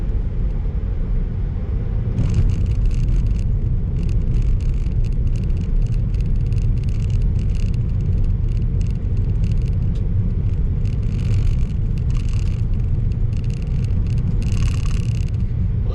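A Tesla rolls over a dirt road with a steady low tyre rumble and intermittent bursts of gravel crunch and rattle, heard close and continuous without talk.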